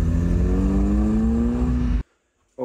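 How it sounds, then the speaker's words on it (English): A car fitted with a Miltec full stainless steel exhaust revs loudly and close by with a rising engine drone, then cuts off abruptly into silence before a brief return of sound at the end. "Miltec full stainless steel exhaust system"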